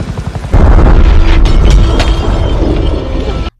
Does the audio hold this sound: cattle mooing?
no